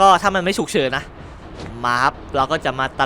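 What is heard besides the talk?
No everyday noise stands out behind the speech.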